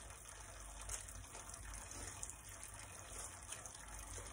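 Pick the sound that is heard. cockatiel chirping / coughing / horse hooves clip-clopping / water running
water running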